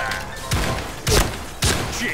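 Three heavy, booming gunshots from a video game shooter, spaced about half a second apart over a noisy game background with faint voices.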